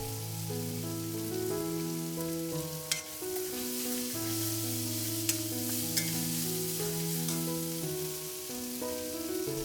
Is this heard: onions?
yes